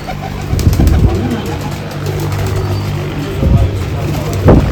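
A golden pigeon coos at a pigeon festival, with low, soft cooing notes repeating over a noisy outdoor background and a few brief thumps.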